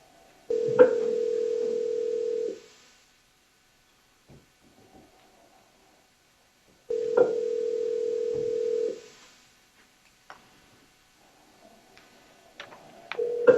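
A telephone call rings out unanswered on the line before going to voicemail, two long electronic ringback tones separated by silence, clear and close, with a third starting at the end.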